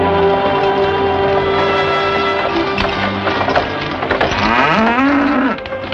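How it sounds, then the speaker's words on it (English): A cow lows loudly and at length in an old Western film, its drawn-out moo rising and then falling near the end, over a steady background of hooves and wagon noise. "My cow, thank you."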